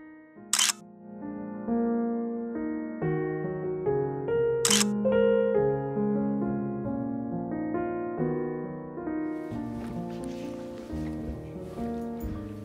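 A camera shutter clicks twice, sharply and close, while photographing colourful gymnastics balls inside an abandoned, fully furnished luxury hotel, over a steady tonal background.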